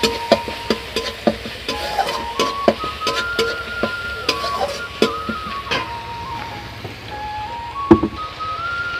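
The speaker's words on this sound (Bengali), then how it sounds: "পেঁয়াজ আর রসুনটা একটু নেড়ে নিয়েছি" Onion and garlic paste stirred in hot mustard oil, with irregular clinks and scrapes of a spoon against the pan over a low sizzle, close and moderately loud.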